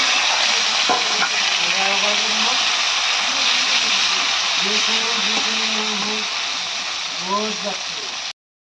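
Sliced bitter gourd (karela) sizzles steadily in a pan of hot oil in a home kitchen, a loud continuous hiss throughout while someone talks over it.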